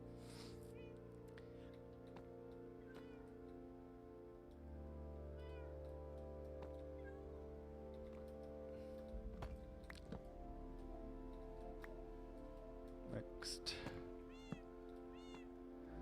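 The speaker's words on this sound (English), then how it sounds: "Hi, cat." A cat meows in the video game Minecraft, several short mewing calls scattered over a steady droning game background, with a voice speaking briefly.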